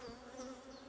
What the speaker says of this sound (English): Bees are all over my hands again.